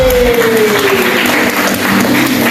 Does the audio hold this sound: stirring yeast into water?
no